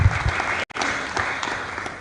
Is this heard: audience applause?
yes